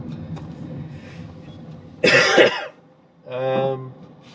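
A single harsh cough bursts out inside a moving car over low engine hum, followed shortly by a brief voiced throat sound, then quiet.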